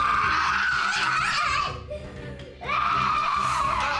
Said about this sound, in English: The screaming.